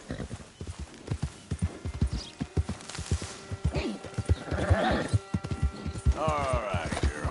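A horse gallops in Red Dead Redemption 2, with fast, steady hoofbeats throughout, a neighing whinny and a voice heard over the hooves.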